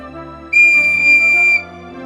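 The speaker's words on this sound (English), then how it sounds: "Tap the whistle when you hear his mom calling him" A single bright whistle tone rings out in the Nintendo Switch game Fairy Whale, held steady for about a second over soft background music.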